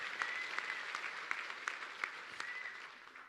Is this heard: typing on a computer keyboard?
no